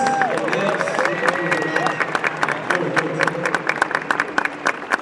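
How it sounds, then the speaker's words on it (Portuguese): A business-conference audience at Sales Experience 2025 applauds a speaker: dense, sustained clapping from many people, with crowd voices and cheering underneath, growing sharper and more scattered toward the end. "Uma salva de palmas, Paulo Guedes, senhores."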